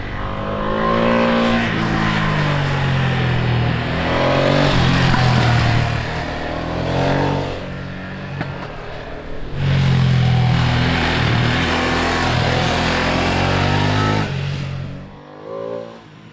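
A 2026 Ducati Monster motorcycle engine revs hard on a ride in southern Spain, loud rising and falling roars in two long surges with shifting pitch, close and alone.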